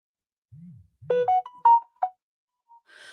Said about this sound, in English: I have to shut down the notifications